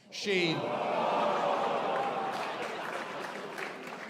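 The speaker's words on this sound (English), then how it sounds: "that deserves a round of applause" A comedy club audience breaks into sustained applause mixed with cheering and shouts, a dense wash of clapping that swells at the start and holds steady for several seconds.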